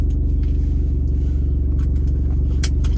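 A car engine idles steadily nearby, a low, even rumble with a regular pulse that holds for the whole stretch, with no one talking.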